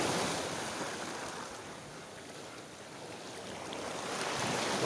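Sea waves wash steadily while out on a fishing trip, forming a broad, continuous surf roar that swells, eases slightly mid-way and builds again, with some wind buffeting on the microphone and no voices.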